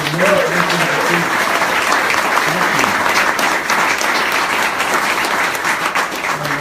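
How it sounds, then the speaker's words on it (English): Loud applause from the crowd at a live bluegrass music show, dense continuous clapping throughout, with a voice speaking over it near the start. "So a big round of applause for some of those."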